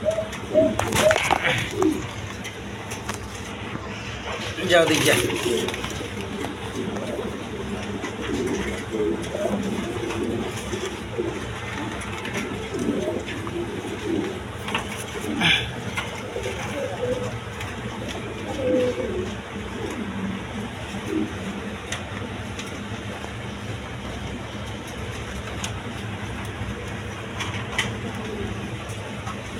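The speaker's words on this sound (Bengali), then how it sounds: "একদম বিগ সাইজের কবুতর" Large pigeons coo in a low, repeated burbling close by, with scattered fluttering and bird calls around them while someone talks intermittently over the cooing.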